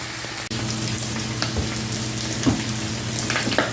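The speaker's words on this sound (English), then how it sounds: "I've got the chicken, the bacon, the ham, bell pepper, onion, garlic, all mixed together, frying in my skillet" Chicken, bacon, ham, bell pepper, onion and garlic fry together in a skillet, giving a steady close sizzle with a few scrape-and-stir bumps and no talking.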